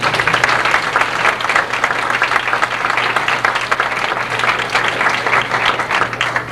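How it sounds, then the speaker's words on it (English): Students and parents at a 1989 band banquet give a sustained round of applause, loud and dense from start to finish, with no speech over it. "So everybody give everybody else a round of applause."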